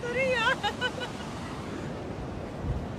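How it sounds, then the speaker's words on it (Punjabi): Sea surf washes in a steady broad roar along a coast, mixed with wind buffeting the microphone, while a brief voice rises at the start and fades under the continuous water noise. "ਸਾਰੇ ਪਾਸੇ ਸਮੁੰਦਰ ਹੀ ਆ।"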